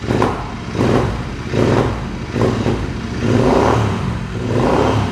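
A 2022 Royal Enfield Interceptor 650 motorcycle with an aftermarket exhaust, about 6,000 km on it, revs close up in roughly five rising surges, each throaty burst dropping back between pulls.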